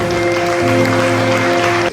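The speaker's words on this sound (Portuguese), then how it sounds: "Vamos aplaudir o nosso tempo, Senhor" At a church service, the congregation claps in a continuous wash of applause, heard over a sustained, steady keyboard chord.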